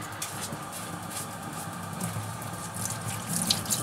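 Tap water runs steadily into a sink while shoes are rinsed of dirt and sand by hand, a continuous splashing rush with small irregular spatters and drips close by, no talk.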